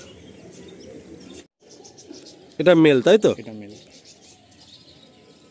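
Pigeons coo softly in a loft that holds moulting Chotial birds, a low steady murmur running throughout, briefly covered by a loud close voice in the middle.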